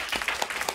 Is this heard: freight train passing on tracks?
no